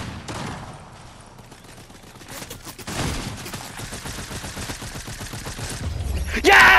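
Automatic weapon fire from a Fortnite match, bursts of rapid shots that grow louder and denser partway through, with excited player voices talking over the shooting.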